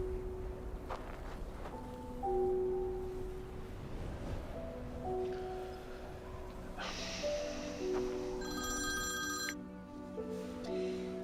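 A telephone rings indoors with repeated electronic bell tones, fairly quiet and set against a low background hum.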